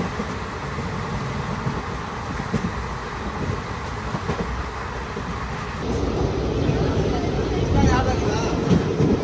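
The Tirupati Express rumbles along the rails with a steady, loud rolling noise that grows heavier partway through, continuous throughout.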